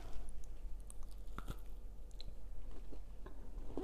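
Someone bites and chews homemade rocky road squares with marshmallow and white chocolate, giving soft crunches and sticky, moist chewing sounds close to the mic, with no talking.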